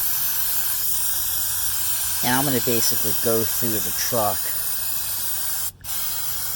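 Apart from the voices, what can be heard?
aerosol spraying Waxoyl rustproofing onto a 1991 Range Rover Classic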